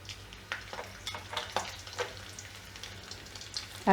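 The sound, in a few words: garlic frying in hot ghee for dal tempering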